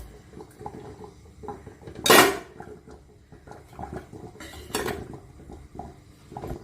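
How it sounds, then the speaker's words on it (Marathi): Steel bowls of finger millet idli batter set down inside a pressure cooker, giving two distinct metallic clanks a few seconds apart over a quiet kitchen background. "आता ह्याच्यावरती आपण ह्या वाट्या ठेवायच्या आहेत"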